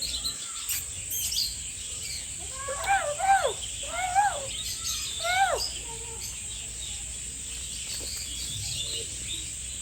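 Several birds at Karanji Lake bird sanctuary in Mysuru give short, rising chirps in quick clusters, fairly close and clear over a steady high insect drone and faint background hum.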